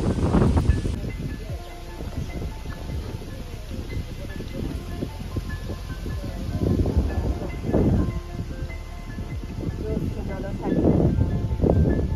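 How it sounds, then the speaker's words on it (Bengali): Strong wind blows beside a lake in Meghalaya, a constant roar that buffets the microphone and swells into louder gusts, along with a rustling texture. "প্রচণ্ড হাওয়া দিচ্ছে"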